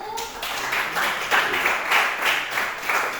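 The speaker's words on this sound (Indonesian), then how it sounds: "berikan aplaus untuk kelompok 1" A classroom audience applauds a student group that has just finished presenting, a steady wash of many hands clapping at moderate loudness for about three seconds, with some voices mixed in.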